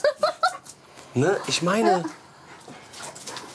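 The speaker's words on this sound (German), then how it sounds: "wir gucken Videos und was machen die Hunde? Die toben, die spielen hier." Dogs romp and play in a home garden, yipping and making short excited vocal sounds at the start while a person talks over them, then fainter scuffling noises.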